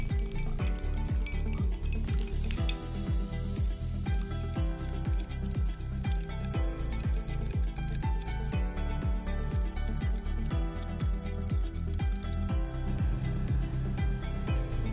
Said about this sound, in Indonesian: Kita aduk hingga merata.